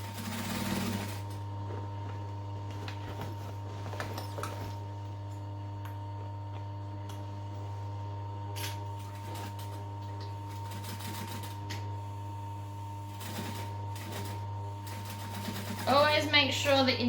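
A sewing machine stitches a Dallas Duffel bag in a steady, continuous mechanical whir with a constant hum, running close and alone for most of the stretch, with a brief voice near the end.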